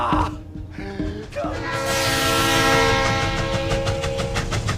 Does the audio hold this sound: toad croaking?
no